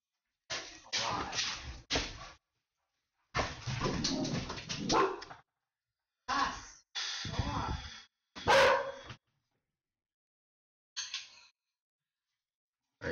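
A dog in a game barks and yips in several short bursts separated by silent gaps, close and fairly loud.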